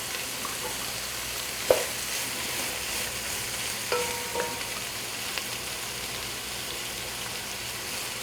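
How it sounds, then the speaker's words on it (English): Onions frying in oil for chicken biryani, a steady broadband sizzle with occasional sharper clicks and light scraping from stirring, moderately close and fairly even throughout. "you need the oil to fry the onion"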